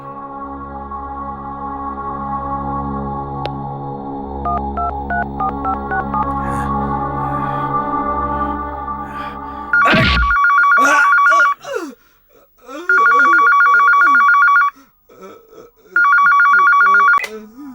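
Music plays, then a short burst of phone dialing tones, followed by two long bursts of an electronic telephone ring with a pause between, loud and clear.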